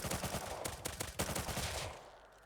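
Rapid gunfire from a shooter game rattles off in quick, dense bursts, a fast run of cracks at moderate loudness that tails off near the end, with no talking over it.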